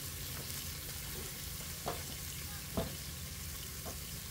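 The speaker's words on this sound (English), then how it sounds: "I'm gonna go ahead and throw a couple tablespoons of butter onto this now" Butter and hash browns, started in oil, sizzling on a Blackstone flat-top griddle; a steady, soft frying hiss with a few sharp spatula scrapes and taps, no talking.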